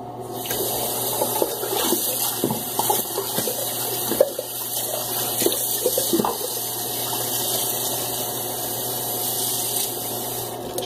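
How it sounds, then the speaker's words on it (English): Water splashes and trickles as a shaving brush is dipped to wet its tips during a head shave, a close, steady wet running sound with small bursts, no talk. "I think I'm going to add a little bit more water to this."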